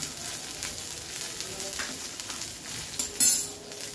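Cumin seeds hit hot oil in a pan, a soft continuous crackling sizzle with faint spoon clinks and a brief louder pop near the end, no voices.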